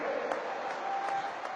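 A crowd claps at a speech with dense, continuous applause that stays even and close throughout the short burst.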